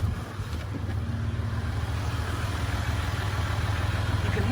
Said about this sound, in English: hear some of that standard sort of diesel sound